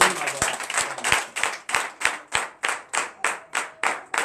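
Church congregation claps in a steady, even rhythm of about a dozen sharp, loud handclaps, with a murmur of voices and cheering mixed underneath.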